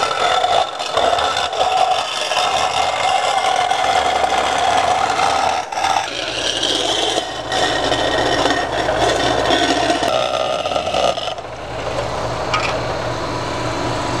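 A gauge bezel panel for a Corvette build is rough cut with a power tool, giving a loud continuous rasping, grinding noise that shifts in tone partway through.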